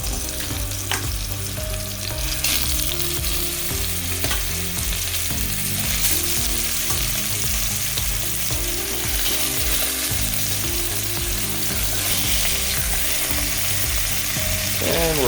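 Beef ribs sear in smoking-hot oil with a loud, continuous close-up sizzle and crackle that holds steady throughout, with faint scraping underneath.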